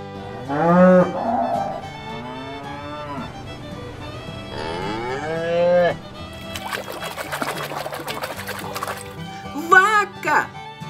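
A cow mooing, heard as several drawn-out lowing calls close by, with a voice speaking between them and some splashing, pouring liquid sounds.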